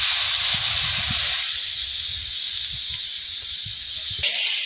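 Fish coated with turmeric powder, chili powder and salt sautés in a pan, giving a steady, close hiss of sizzling with soft low knocks of stirring underneath.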